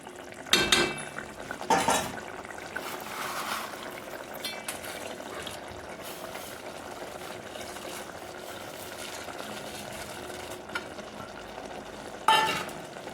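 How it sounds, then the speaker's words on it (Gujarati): Sev is stirred into cooked-down tomatoes in a pan over a low flame: a soft, steady sizzle runs underneath, broken by a few sharp clatters of the spoon against the pan. "આપણે એને અલાઈ નાખશું આ રીતે"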